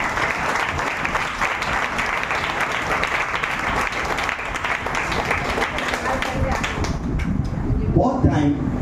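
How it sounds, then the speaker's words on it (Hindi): A church congregation applauds at a prophetic worship service with sustained, dense clapping from many hands filling the room. A voice briefly rises near the end. "जोरदार ताली बजा प्रभु।"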